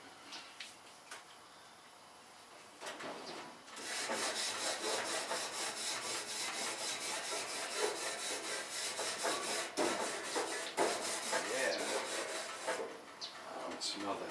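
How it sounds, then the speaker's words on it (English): A metal cooking grill being scraped clean while chuck steak is prepared, heard as a dense run of rapid, rhythmic rasping strokes that holds steady for about nine seconds after a quieter start, close and fairly loud. "I'll scrape off the grill."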